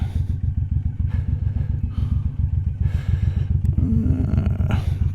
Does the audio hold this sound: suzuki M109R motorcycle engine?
yes